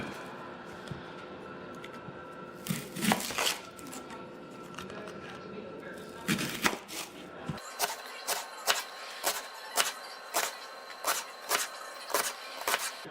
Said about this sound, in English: I've never cut an onion before in my life.